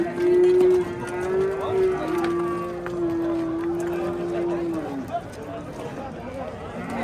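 At a cattle market in Oqdaryo, Yangiqurgon, a cow gives a long, steady moo lasting several seconds, loud and close, with people talking and the market bustling around it.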